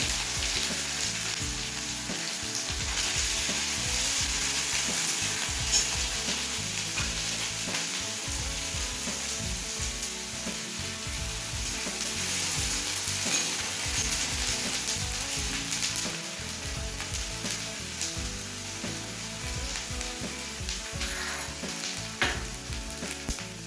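Onion and ginger-garlic paste fry in hot oil in a pan for an egg and paneer curry, giving a steady, loud, broadband sizzle throughout, with occasional stirring scrapes and no talking.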